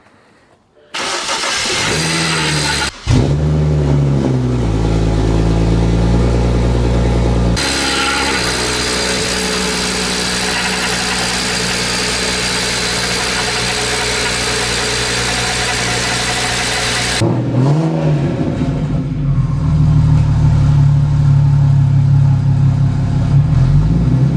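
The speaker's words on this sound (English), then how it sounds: "We got the GoPro in the back, listen to the exhaust." A BMW 335i with a single-turbo conversion starts up and revs, its exhaust loud and close, climbing through sustained revs before dropping back to a rough idle; no one speaks.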